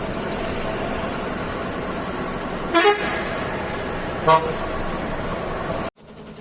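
A truck horn sounds inside a road tunnel, two short honks about a second and a half apart, ringing over a loud, steady tunnel rumble before the noise drops off abruptly.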